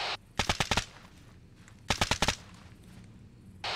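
Machine gun fire in the military shooter ArmA 3: two sharp bursts of four or five rapid, loud shots each, separated by a second of quieter rumble, with the start of another burst at the end.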